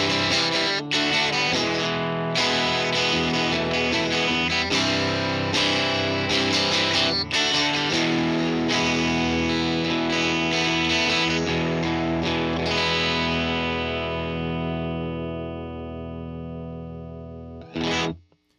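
Electric guitar played through a Fender Tone Master Pro modelling the UK30 Brilliant amp with top boost treble, sounding bright and slightly driven with chorus-like shimmer; chords ring out and sustain, decaying into a final short strum.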